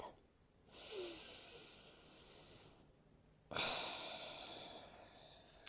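A final breath during a core-strength yoga flow, a soft, close exhale followed after a pause by a louder, longer breath of air, with quiet stillness in between.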